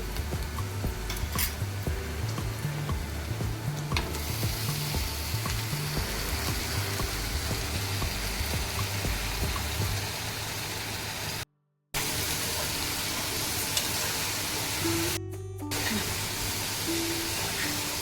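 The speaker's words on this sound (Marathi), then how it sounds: "कांदा चांगला शिजत आलेला आहे आता आपण हा जवळा टाकणार आहोत" Dried small shrimp (jawla) going into a pan of cooking onions, giving a steady sizzle with stirring and scraping against the pan, a continuous frying hiss with a brief break near the end.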